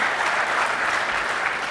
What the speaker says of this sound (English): Give me a round of applause, guys.